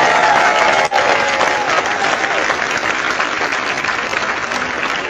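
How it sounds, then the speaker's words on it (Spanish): A church congregation applauds in a loud, continuous wash of clapping with some crowd noise, holding steady for several seconds. "¡Aplauso para la iglesia católica, la iglesia de Jesucristo!"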